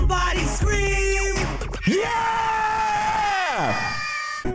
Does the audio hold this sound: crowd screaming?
yes